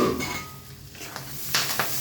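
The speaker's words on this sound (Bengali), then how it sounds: "ঢেকে নিয়ে আবার নাড়িয়ে রেখে নিচ্ছি যাতে তলায় না লেগে যায়" A spoon stirs an egg, potato and bean curry in a pan, with soft scraping and clinks against the metal and a faint sizzle underneath.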